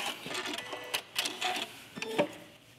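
A sewing machine runs a quarter-inch quilt seam at regular stitch length, whirring in short bursts with a mechanical clatter and brief pauses between runs.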